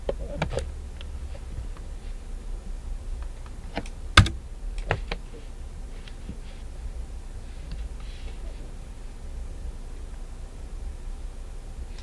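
Stream Deck buttons are pressed to switch settings on a Trinnov Nova plugin, giving a few sparse, crisp clicks close by, one sharper than the rest, over a faint hiss.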